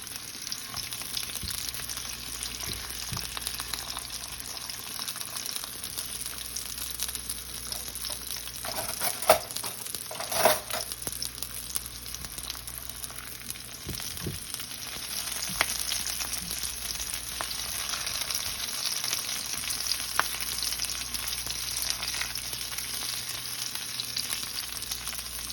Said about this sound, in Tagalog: pag naggisa kayo ng corned beef